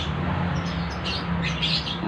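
A banded pitta chick chirps in quick high peeps while being hand-fed, the calls clustering toward the end over a steady low background hum.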